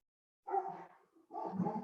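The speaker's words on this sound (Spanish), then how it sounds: "perdón porque los perros se pusieron a ladrar" Several dogs bark close by in two short bursts of overlapping barks with a brief gap between them, heard alone in a quiet room.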